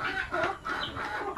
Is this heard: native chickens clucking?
yes